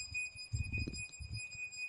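A MyQ smart garage door controller beeps in a steady, faint high tone that holds throughout, while low, muffled handling or movement noises sit underneath.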